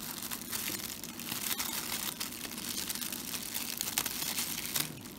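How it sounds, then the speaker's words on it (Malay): Plastic packaging for a SADES R12 Pro 7.1 II gaming headset is opened by hand, making close, continuous crinkling and crackling with a few sharper tearing rustles and no talk. "Kita buka dulu plastik."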